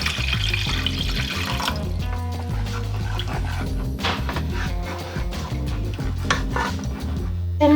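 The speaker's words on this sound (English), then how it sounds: "Now I'm going to add 200 ml of water." Water poured into a pot of Thai red curry with duck and pineapple, a steady liquid splash over kitchen clatter of pans and utensils, continuous and fairly close throughout.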